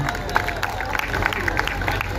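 A crowd at a gathering in Naivasha applauds a woman, giving a dense, steady patter of clapping that runs throughout alongside crowd noise and voices.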